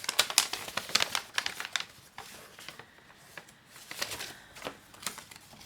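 A paper envelope being opened: soft, close crinkling and tearing in quick irregular bursts, fairly quiet.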